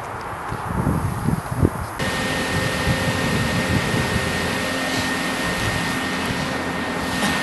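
Everlast 205 plasma cutter slicing steel knife blanks: a steady, loud hissing roar of the arc that continues without a break, with a brief rougher burst near the start before the sound settles into an even rush.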